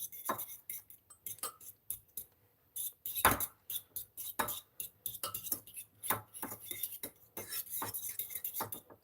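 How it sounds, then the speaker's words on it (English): Eggs beaten in a bowl for an omelet: a close, brisk run of clinking utensil strikes against the bowl in uneven rhythmic bursts with short pauses, loud and clear with no talking. "Now you just want to mix it until it's like basically all yellow."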